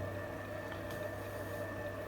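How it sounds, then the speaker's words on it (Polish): Cells of a 12V 70Ah AGM SSB car battery boil and bubble steadily while charging, a constant fizzing hiss with a low hum, close and continuous. "Czwórka się gotuje, piątka też się gotuje"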